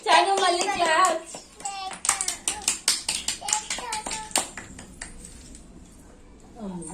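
A small child claps a run of about a dozen quick, close claps in a steady rhythm, preceded by a burst of high childish vocalizing and then fading into quiet.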